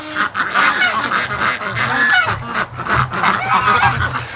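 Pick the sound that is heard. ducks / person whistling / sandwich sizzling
ducks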